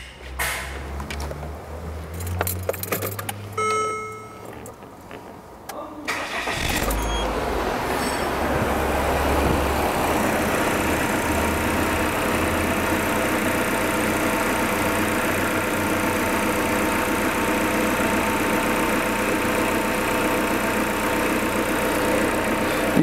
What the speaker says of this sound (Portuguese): Agora a gente vai ligar o carro e vai começar a monitorar a temperatura novamente.